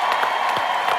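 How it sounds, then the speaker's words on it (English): Brief burst of audience clapping, dense and steady, from a crowd. "applause"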